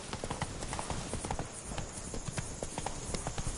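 Roach the horse gallops in The Witcher 3, steady rapid hoofbeats clip-clopping close by in a continuous driving rhythm.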